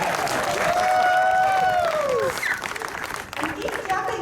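Crowd applauding the Indian cricket team at a reception at the Indian High Commission in Canberra, a steady roar of clapping and cheering with voices calling over it.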